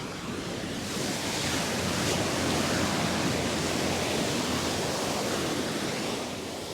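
Ocean surf at a Sydney beach rolls in a steady, broad wash of crashing waves, loud and continuous without pause or voices.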